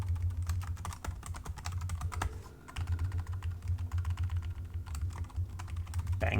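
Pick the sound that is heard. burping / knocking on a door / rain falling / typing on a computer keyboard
typing on a computer keyboard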